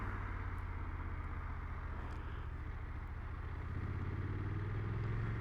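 A 2020 BMW F750 GS motorcycle pulls hard in second gear, its steady low engine drone rising gently in pitch as it accelerates, with continuous wind rush over it and no talking.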